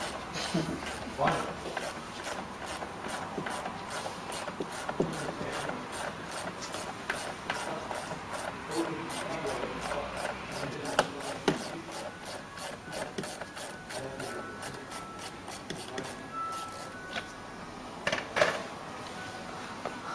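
Long screws being removed from the radio panel of a BMW E46, a rapid run of small ticking and scraping clicks from a hand tool, close up under low talk.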